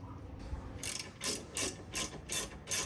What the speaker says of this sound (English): So we're just tightening down the bracket.